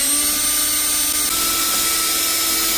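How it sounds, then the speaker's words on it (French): A drill bores a hole in the top of a plastic jerrycan, a steady high-pitched whine with a slight drop in pitch partway through, continuous and close, with no talking. "j'ai juste à faire un trou sur le dessus, ici, avec une mèche adaptée à la grosseur de ma durite"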